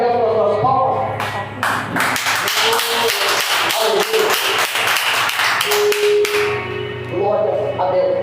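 A Pentecostal church congregation claps in praise, a dense burst of rhythmic hand claps that swells and then fades, with voices and music underneath at the start and end.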